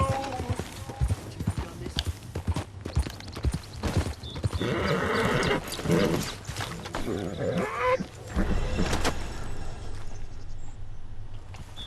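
Horse hooves clip-clopping in Red Dead Redemption 2 as a rider gallops away, a rhythmic run of hoof beats with intermittent louder impacts and game ambience, continuing throughout.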